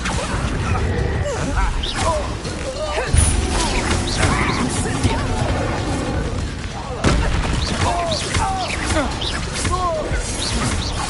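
Explosive Confringo blasting spells in Hogwarts Legacy combat, heavy crashing booms and sharp impacts, bursting repeatedly over a dense battle soundscape while voices shout over the action.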